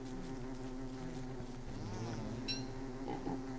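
A bee buzzes in the video game Don't Starve, a continuous droning hum that wavers in pitch, steady and fairly quiet, with small clicks and short tonal blips over it.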